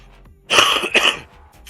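A single short, rough cough from a person working on a build, loud and close, alone without talk.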